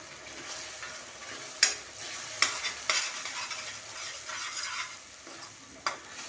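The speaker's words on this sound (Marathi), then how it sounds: "आणि वाटण पण छान असं परतवून घ्यायचं" Ground masala paste, added after onion and tomato, sautéed in oil in a pan; continuous sizzling with several sharp spoon scrapes and clinks as it is stirred, close and without talk.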